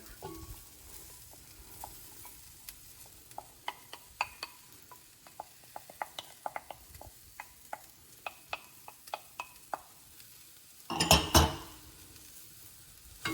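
Onion for Chettinad chicken hits a hot pan, with irregular scraping, clinks and stirring strokes over a low sizzle, then a loud, dense burst of sizzling near the end.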